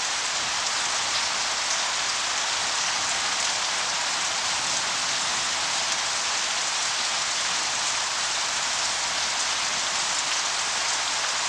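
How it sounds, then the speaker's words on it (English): Heavy rain pours down after months of drought, a dense steady hiss of drops on the ground that continues unbroken and loud throughout, with no other sounds. "Finally, after months of drought, a long-awaited downpour."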